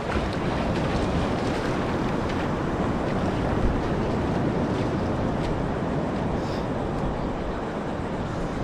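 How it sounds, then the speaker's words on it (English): Ocean waves break on the sand at Kure Beach, a continuous broad wash of surf that stays loud and steady throughout with no voices heard. "These waves are not big, all right?"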